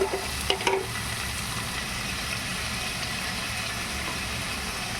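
Onions frying in a pan while being stirred, for a semolina upma: a steady close sizzle with a couple of sharp spatula scrapes and taps at the start, no voices.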